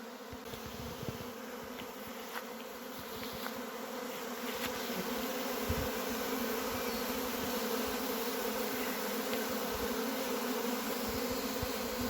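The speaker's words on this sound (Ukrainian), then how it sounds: "от ми бачимо виходить рій" A dense, continuous buzzing hum of a honey bee swarm leaving its hive fills the air, steady and loud, with individual bees zipping past close by.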